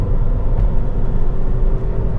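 A Renault Wind's engine labours under full throttle in third gear at about 30 mph, a loud, steady low drone and rumble with no clear rise in pitch over the short stretch.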